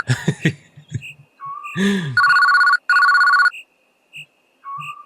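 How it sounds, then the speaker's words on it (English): A telephone in an indie video game rings in two long electronic trilling bursts separated by a short gap, loud and close, after a brief cough-like sound and a few short tones. "Wait. That's a telephone!"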